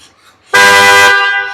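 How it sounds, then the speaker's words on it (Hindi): A single loud horn blast from a newly fitted horn on a Chevrolet Cruze, close by, lasting about half a second before fading out. "एक बार हॉर्न बजाइए।"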